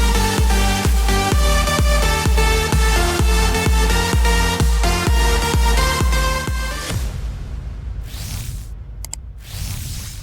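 A progressive house track plays loud and full, with a pounding four-on-the-floor kick and bright stacked chords that drop out near the end, leaving a thinner washy tail with brief swells.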